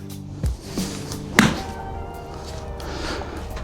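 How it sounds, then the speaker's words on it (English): A golf wedge strikes a ball on a short warm-up shot at the start of a round: a few soft thuds, then one sharp, close click of impact that fades into quiet outdoor ambience. "Warm up from there with a short wedge shot."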